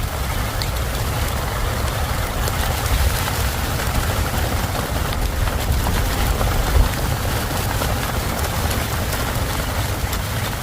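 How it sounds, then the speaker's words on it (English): Steady rain falls in a garden, a dense even hiss of drops on leaves and ground that continues without a break, close and moderately loud, with no talking. "Oh, starting to rain."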